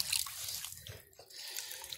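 Water is poured and dripped onto a fossil rock outdoors, giving a soft, continuous trickling and splashing that stays faint and close.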